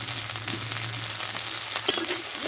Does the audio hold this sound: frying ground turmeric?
yes